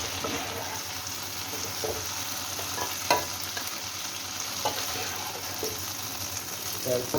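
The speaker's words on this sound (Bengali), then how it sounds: "চিংড়িটাও একই সাথে ভেজে নিলাম" Prawns and ladies finger frying in a pan while being stirred, a steady sizzle with scraping stir strokes throughout, close and moderately loud.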